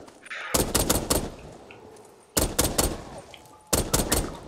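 A minigun firing at fast zombies on the Desert Arena custom map in Call of Duty Black Ops 3, three loud close bursts of rapid rattling gunfire separated by short pauses, with faint game sounds between.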